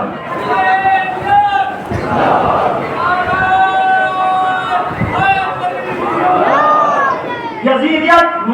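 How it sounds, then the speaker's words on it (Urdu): A crowd at a religious majlis gathering chants slogans in unison, loud call-and-response shouts that swell and fall in waves, a lead voice heard between the massed responses. "نعرے لگا رہے ہیں"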